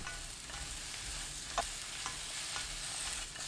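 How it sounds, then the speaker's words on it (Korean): Steady, quiet sizzling of anchovies stir-frying in an unheated pan, a constant hiss with a few faint scrapes and clicks, no talking. "달구지 않은 팬에 넣고 볶다가 지글지글 소리 나면 10초 더 볶습니다"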